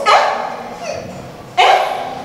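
A dog barks twice, a sharp loud bark at the start and another about a second and a half later, each trailing off, in a Nigerian drama scene.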